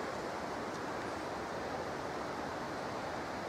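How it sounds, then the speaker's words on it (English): Water pours over the Horseshoe Falls weir on the River Dee, a steady broadband roar like rushing falls, constant and unbroken, with no voices. "that water metering station there is the Horseshoe Falls Weir. On the Dee there, and that's guiding the water in."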